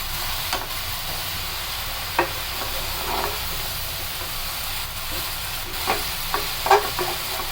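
Raw jackfruit pieces are stirred into spices in a pan with a spatula over a steady, low sizzle, with occasional soft scrapes and knocks from the spatula, close by and without talk.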